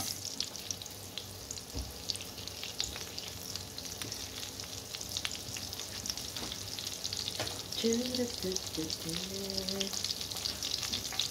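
Butter sizzles steadily in a pan for a broccoli and mushroom dish, a close continuous frying hiss with faint crackles and a brief low voice partway through.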